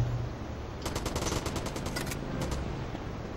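Pistol gunfire in the video game GTA Liberty City Stories, a fast run of about a dozen sharp shots followed by a short pause and two more, sitting over a steady game background hum.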